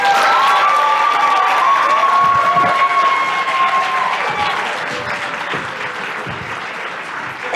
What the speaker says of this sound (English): Let's give all of our people a big round of applause.